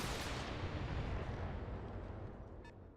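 Mech weapons firing all at once in the BattleTech video game, a loud, close, sustained booming roar of artillery-like blasts that slowly fades, with a brief crackle near the end.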